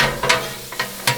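Garlic and Jimmy Dean sausage sizzling together on a griddle, with a few short scraping bursts from a spatula stirring through the steady frying hiss.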